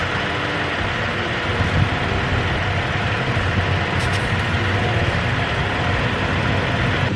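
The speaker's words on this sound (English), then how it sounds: "Finishing airing up this last tire" Steady, continuous mechanical drone of an air compressor inflating a Toyota Tacoma truck tire outdoors on an off-road trail, with no one speaking.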